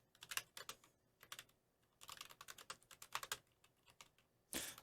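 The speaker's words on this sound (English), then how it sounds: "Apologise if you can hear me typing," Typing on a computer keyboard during a Formula 1 podcast: quick, irregular bursts of clicks from nearby keys that come in clusters with short pauses, and no voices.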